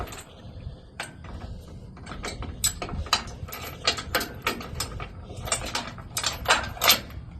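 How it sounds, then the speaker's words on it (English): Metal clips on a utility trailer hitch being clipped and unclipped, a run of sharp, close metallic clicks and rattles in an irregular rhythm over a low mechanical rumble. "Unclip using the clips."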